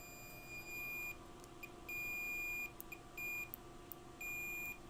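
Electronic beeps from a multimeter continuity test on a circuit: four steady high-pitched tones of about half a second to a second each, spaced irregularly over a faint hum, with no talking.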